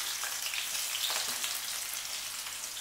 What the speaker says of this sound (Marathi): बऱ्यापैकी तेल तापलंय तर त्याच्यामध्ये कांदा घालूया.